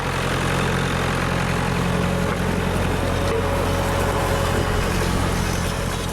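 A steady, low old tractor engine rumble idles continuously at moderate loudness, with a constant hum and faint vibration throughout.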